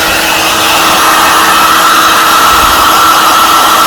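A heat gun blows hot air onto sound deadening being laid in an HQ Holden Monaro coupe, a steady, loud broadband roar that holds unchanged from start to finish with no talk over it.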